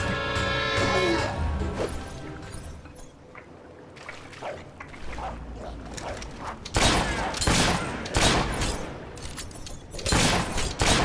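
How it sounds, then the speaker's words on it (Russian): Repeated gunshots in the video game Fable 3 crack out in a busy cluster of sharp bursts through the second half, layered over a loud, dense game soundscape. "сейчас стреляю уже несколько раз"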